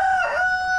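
A rooster crows on a farm among chickens, a single short clear call, close and fairly loud, heard alone without talk.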